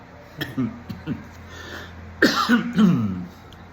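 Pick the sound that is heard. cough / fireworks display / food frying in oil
cough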